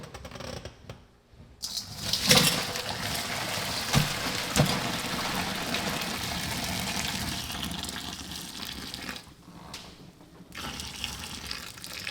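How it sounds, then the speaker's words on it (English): Boiled, tender potatoes and their cooking water pour into a colander in the sink with a steady rushing splash and occasional knocks, running for most of the stretch before tapering off. "My potatoes are tender, so I'm very carefully going to pour them"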